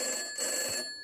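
A telephone bell rings in a short trill, fairly faint and alone, with steady high tones that fade out near the end.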